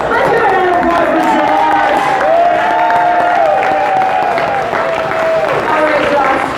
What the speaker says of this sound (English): Let's give a hand of applause for